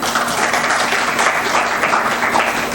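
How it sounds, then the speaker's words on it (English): An audience at a Maritime Trainers Guild 15th Foundation Day event applauds and cheers, a dense continuous wash of clapping heard up close for the whole stretch. "Let's give ourselves a big cheer"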